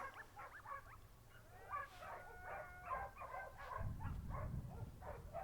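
Several dogs barking and yipping down in a canyon, the barks coming in a steady overlapping stream at moderate distance, with a low rumble of wind or handling joining midway.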